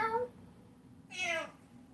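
A voice imitates a cat's meow twice, giving two short, whiny mews separated by a pause, close and fairly quiet.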